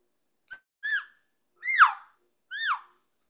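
A man imitates an elk cow call with his mouth closed, giving four short, separate squealing mews that each rise and then slide down, set apart by silence.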